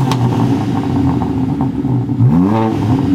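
A BMW G80 M3 with an H-pipe exhaust, one resonator removed and a large muffler kept, revs sharply: a steady idle burble, then a quick rising rev that falls away, close and loud.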